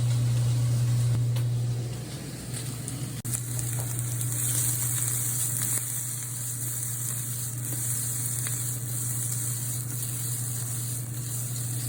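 Lobster sizzles in butter in a hot pan while frying rice, a steady close sizzle with a low hum beneath and occasional soft clinks, no talking.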